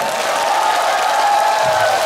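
A live studio audience of older women at a Korean song class applauds a guest singer. The clapping is a loud, dense, continuous wash that blends with a faint sustained tone, with no voices on top.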